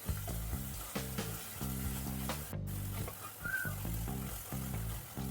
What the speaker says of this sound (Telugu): ధనియాల పొడి మిరప్పొడి బాగా పచ్చి వాసన పోయేంత వరకు వేయించుకోవాలి